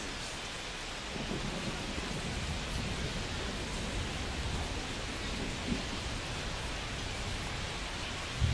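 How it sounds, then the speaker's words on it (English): Steady heavy rain pours down over a baseball stadium during a Tigers at Dodgers game, a dense continuous hiss filling the whole stretch with no voices on top. "This rain is not letting up."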